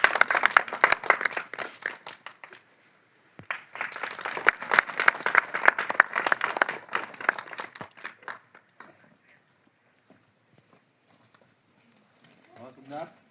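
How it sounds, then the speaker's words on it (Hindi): Schoolchildren clap together at a Republic Day event in a government primary school, a dense patter of many small hands that stops, resumes loudly, then fades out, with brief voices near the end. "ताली बजाओ बेटा।"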